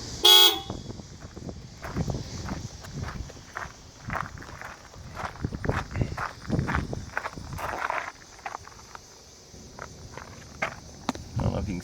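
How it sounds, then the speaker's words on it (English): A 2004 GMC box truck horn gives a single short, loud toot at the very start, followed by footsteps, crickets and scattered outdoor noise. "Horn."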